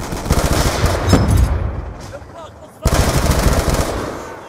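Sustained automatic gunfire from Call of Duty Black Ops 2 multiplayer, loud and dense, with a brief lull before the rapid bursts resume at full intensity.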